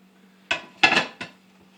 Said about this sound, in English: it's time to flip our cake in the cake plate